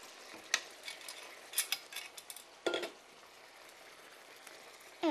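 Canned tomatoes cooking in a pan, with a soft sizzle under quiet clinks and scrapes of a spoon stirring against the metal, a few sharper taps standing out.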